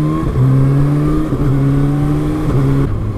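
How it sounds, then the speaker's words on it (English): A 2019 Kawasaki ZX-6R with an optional Akrapovic exhaust, baffle fitted, revs steadily and close up, its tone stepping up and down in a few short shifts before settling, with no talking. "This has also got the optional Akrapovic, but it has got the little baffle in, so it's not particularly loud, this bike."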